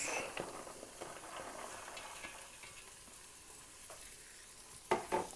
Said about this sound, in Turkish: Börülcelerimizi güzelce kavuracağız.